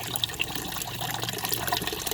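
Water flushing out of an Aquahot RV hydronic boiler, a steady splashing gush with small gurgles and drips, close and continuous.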